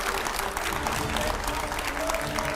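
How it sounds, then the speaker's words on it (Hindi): A studio audience gives loud, steady applause to welcome Manoj Tiwari, the BJP MP, at a televised editors' interview. "जोरदार तालियों से स्वागत कीजिए।"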